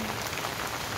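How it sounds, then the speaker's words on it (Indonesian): Heavy rain pours down steadily on a village, a dense, constant hiss of drops hitting surfaces with no pauses or voices. "Desaku diguyur hujan"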